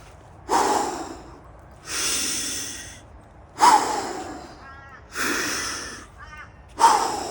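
Slow, deep breaths, each long inhale and exhale rising and fading in a steady rhythm of four or five cycles, close and fairly loud with no talking.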